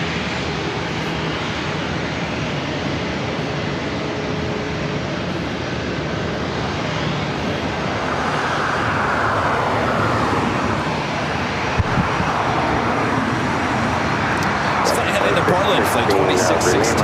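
An Airbus A319 airliner, flight 2616 to Portland, passes at LAX with a broad engine rumble that swells into a louder whining roar midway, while people talk nearby.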